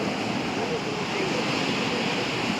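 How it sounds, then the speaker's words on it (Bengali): Ocean surf crashing continuously onto a beach, a broad steady roar with wind buffeting the microphone, loud and close throughout. "আর ঢেউগুলো কি"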